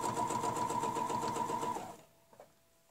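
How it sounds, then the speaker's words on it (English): Sewing machine stitching a straight pattern line with a ruler guide, a steady rapid run of needle strokes that stops abruptly, followed by a couple of faint clicks. "now we're going to stitch from that line all the way to there"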